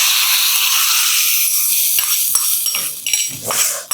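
Hot ghee tempering poured over dal fry crackles into a loud, bright sizzling hiss that gradually settles, with a few clinks of a utensil near the end.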